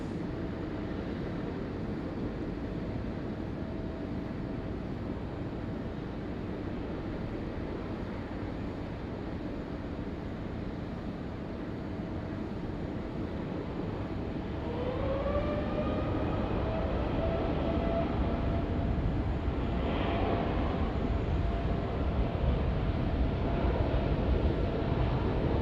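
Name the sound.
Japan Airlines jet taking off from Sydney runway 16 right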